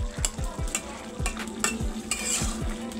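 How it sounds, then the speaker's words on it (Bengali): Pangas fish curry with potatoes is stirred in a pan: a low simmering sizzle under a regular series of quick spoon scrapes and light metallic taps, close and unhurried. "মাছটাকে নেড়েচেড়ে মিশিয়ে আরও কিছুক্ষণ রান্না করে নেব"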